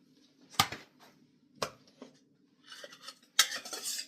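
Metal utensils stir and toss quinoa through a salad in a bowl, giving a few sharp clinks and scrapes separated by quiet gaps, then a busier stretch of rustling and clattering near the end.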